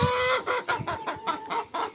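Several chickens clucking in quick, repeated bursts, close by, reacting to newly added chicks, with a rooster-like call mixed in.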